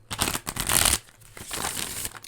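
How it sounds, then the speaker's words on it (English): A matte-finish tarot deck with smooth card stock is bridge shuffled, giving bursts of riffling, crinkly flutter followed by a softer cascading settle as the cards fall together, close and clear with no talk. "I would shuffle these in a classic bridge."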